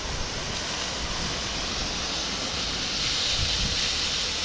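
A garden hose nozzle set to a soft, fanned spray sends out a steady broadband hiss of water, close and constant for several seconds, with no voices.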